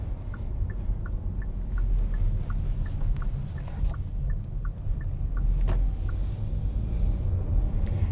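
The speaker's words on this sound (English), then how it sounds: "So coming up here, we're gonna do a quick U-turn." A 2020 Kia Soul GT-Line Turbo makes a U-turn: steady low engine and road rumble heard from inside the cabin, with a regular ticking turn signal clicking through most of the turn.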